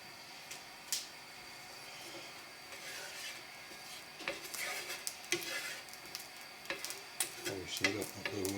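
A couple of small garlic cloves sizzle softly in a frying pan, a faint crackling hiss with light stirring scrapes and clicks building slightly toward the end, briefly joined by a voice.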